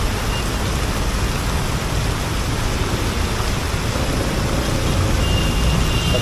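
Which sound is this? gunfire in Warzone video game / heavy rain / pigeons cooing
heavy rain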